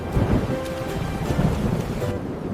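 Steady heavy rain with a low rumble of thunder underneath, dense and continuous throughout, no voices.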